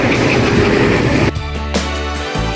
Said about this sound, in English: This is the first tram we've seen today, and it's a Prague Tram.